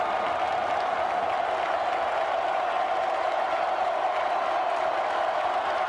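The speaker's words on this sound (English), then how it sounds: "Listen to this crowd." A large stadium crowd roars steadily at a college football game between Oklahoma and Texas, a dense, continuous wash of cheering and noise heard at a distance without a break.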